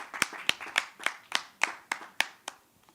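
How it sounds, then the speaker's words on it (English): About ten slow, evenly spaced hand claps from a conference audience sound close and crisp, then fade out. "A round of applause as Marianne comes."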